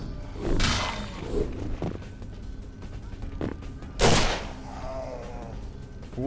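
Gunfire from skeletons in Vampire: The Masquerade – Bloodlines comes as a few loud, sharp shots and thumps over a constant game background.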